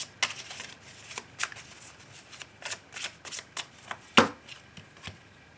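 A deck of tarot cards is cut and handled in a quiet room, giving a series of soft, irregular card slaps and riffling flicks, with one sharper louder snap near the end.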